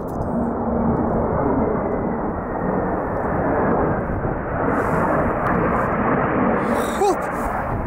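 A fighter jet flies overhead on a cold, slippery mountain summit in the Lofoten islands, its loud, steady broadband roar rumbling throughout, with a brief sharp sound near the end.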